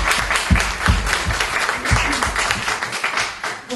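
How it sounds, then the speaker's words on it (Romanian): Audience applause at a book launch in Pitești, steady dense clapping with a few louder individual claps standing out, filling the room continuously. "să vă aplaudăm."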